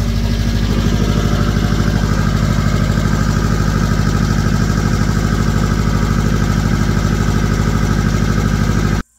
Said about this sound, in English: It kind of has a little vibration, like a rough idle